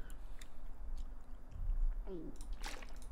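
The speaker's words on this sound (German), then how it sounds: "dann können wir nochmal in ein Stück Rehfleisch reinbeißen" A character eating venison in The Long Dark survival game: a couple of soft, moist chewing and biting sounds up close over a low background rumble, with brief talking at times.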